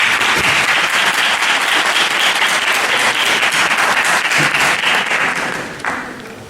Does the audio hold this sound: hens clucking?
no